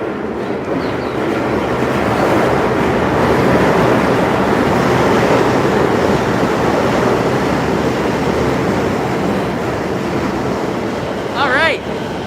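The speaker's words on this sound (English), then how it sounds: "This is my train. It's going towards Shinjuku." A passenger train bound for Shinjuku rumbles past in a Tokyo neighborhood in a loud, continuous roar, and a brief voice comes in near the end.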